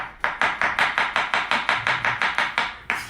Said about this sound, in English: we're just going to breeze through the chopping of these mushrooms quickly.